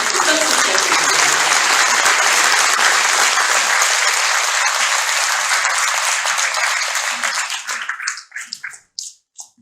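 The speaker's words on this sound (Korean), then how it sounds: "여러분 다시 한번 오늘 찾아주신 것을 큰 박수 부탁드립니다" Audience applause at a 40th White Cane Day commemoration ceremony: a dense, loud, steady wash of many hands clapping for about eight seconds, then thinning out into a few scattered, fading claps.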